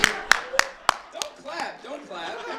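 A comedy club audience gives a few sharp, scattered claps at a live comedy show, followed by close talking.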